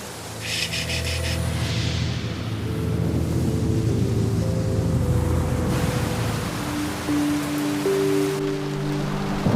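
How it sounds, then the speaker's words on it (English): Steady rain pours down outdoors, a dense even hiss that runs throughout, with low humming tones beneath it and no clear talk. "It's raining."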